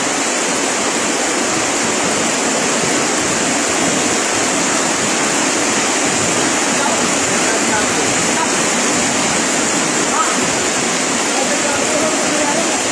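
Flood water rushing through a street in Maysan, Valenzuela, carrying sacks of debris; a loud, steady broadband roar without break, with speech buried in the noise.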